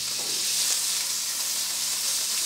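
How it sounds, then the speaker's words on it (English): Strips of venison flank steak sizzle and fry in a very hot wok over a flame, a loud, steady, close crackling hiss with no voices. "So now we're just going to put our flank steak strips in."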